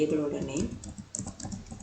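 Computer keyboard typing during a MySQL command lesson, a steady run of quick clicking keystrokes close by, with a voice speaking over the start of it.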